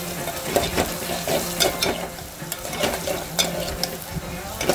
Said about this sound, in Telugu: వెల్లుల్లిపాయలు పోపు వేగే లోపల